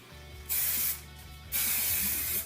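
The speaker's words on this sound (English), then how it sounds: "Spray it some more" A hairspray can hisses in two close bursts, a shorter spray then a longer one after a brief pause, with a low hum underneath.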